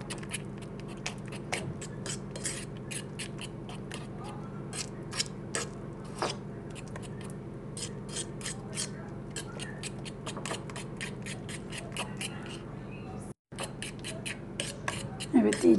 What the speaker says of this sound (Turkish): iyice çırpacağım